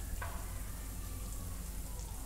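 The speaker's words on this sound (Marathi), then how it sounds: "आता जरा परतून घेते" Steady, dense sizzle of spices frying with homemade onion-garlic masala, turmeric, garam masala and coriander-cumin powder in a pan, continuous and close with no talk over it.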